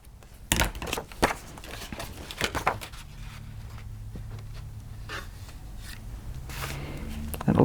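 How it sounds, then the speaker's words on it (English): Scissors snipping the binding of a small paper pad, several sharp crisp cuts and paper rustles near the start, followed by quieter handling noise, with a person talking. "Might do that with the scissors."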